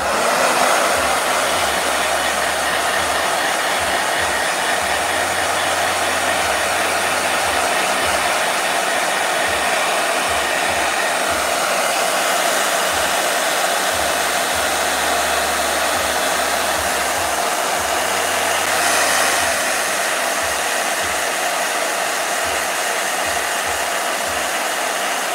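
A hair dryer runs loudly and continuously close to the microphone, a steady whooshing roar with a low hum flickering on and off.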